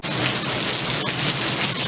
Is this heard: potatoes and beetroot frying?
no